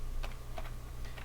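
Keys tapped on a computer keyboard while entering a COUNTIF formula in an Excel spreadsheet, three short soft clusters of clicks spread over about a second, close and quiet over a steady low hum.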